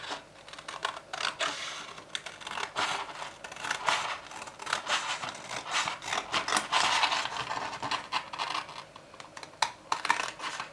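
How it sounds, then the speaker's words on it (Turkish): Steady run of crisp snipping and rustling as large scissors cut through paper or card, close up and continuous with no voices. "Daha büyük bir makasla da kesersek"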